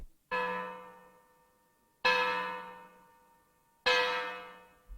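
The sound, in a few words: church bell ringing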